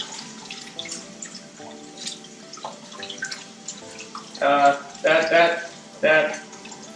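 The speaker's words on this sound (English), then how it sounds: "I am going to wash my hands" A kitchen tap runs as hands are washed under it, with splashing bursts of water near the end, following a stretch of quieter dripping and talking.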